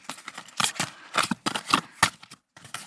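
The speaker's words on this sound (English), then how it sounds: "shuffling begins." A deck of cards shuffled by hand in quick riffling bursts, with crisp papery flutters separated by brief pauses, close and clear.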